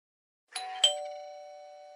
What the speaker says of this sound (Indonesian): Kalau ada bel gini, kita lihat dulu ya guys dari jendela